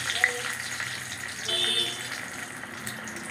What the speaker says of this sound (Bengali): এভাবে লুচিগুলো একটা একটা করে আমি তেলের মধ্যে ভেজে নিচ্ছি